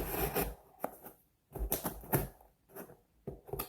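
A knife slices through a cardboard box in short, quiet bursts of scraping and tearing, separated by brief pauses of near silence.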